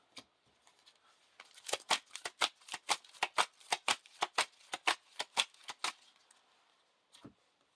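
A rapid riffle of playing cards being shuffled, a quick run of crisp snaps close up, followed by a single soft tap after a pause.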